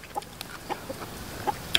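Chickens clucking outdoors beside a rice field, a few soft, brief clucks spaced across a short quiet stretch.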